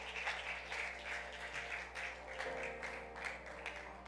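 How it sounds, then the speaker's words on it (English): A church congregation gives a round of applause after a sermon. The clapping is faint and distant, with a steady low hum underneath. "Give them a round of applause if you were blessed by the word of God today."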